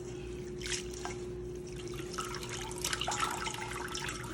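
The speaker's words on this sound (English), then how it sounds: "We don't want to be putting all of this water into the ingredients, into the egg roll mix. So we're gonna drain this all out." Water draining out of soft cooked vermicelli in a small drainer while egg rolls are prepared, a steady close trickle with scattered drips over a constant low kitchen hum.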